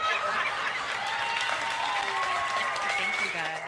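Clapping from a late-night show audience, a sustained round of applause at steady level with voices and some laughter mixed in among the claps.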